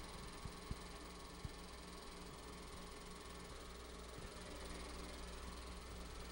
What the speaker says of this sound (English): Classic Alco Power, two C-636s and a C-628 lead the train.